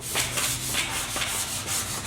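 Rhythmic abrasive scraping of sandpaper sanding a metal 350Z strut bar, steady back-and-forth strokes repeating about every half second, close and fairly loud with no voices.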